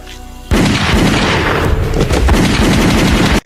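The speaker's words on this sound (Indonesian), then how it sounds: "salah satu anak buah dari Paul muncul secara tiba-tiba dan berhasil menembak rekan wanita dari Nico" Gunshots in an action film explode suddenly after a quiet moment, a loud sustained burst of rapid gunfire with booming impacts lasting about three seconds.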